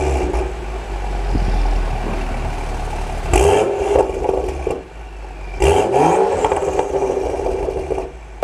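A turbocharged BMW 335i engine idles with a low drone, then revs sharply twice in strong, rising bursts that settle back between pulls, loud and close with no talk.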